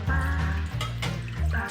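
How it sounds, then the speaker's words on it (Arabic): White rice being rinsed under running tap water in a sink, a loud, steady gush of water with a continuous hum and splashing, close to the microphone. "رح اغسل الرز كتير منيح."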